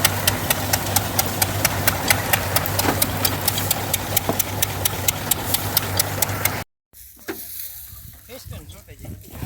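A tractor fitted with a groundnut opener runs in a field, its diesel engine thumping at a steady, evenly spaced beat up close before the sound cuts off and gives way to quieter outdoor noise.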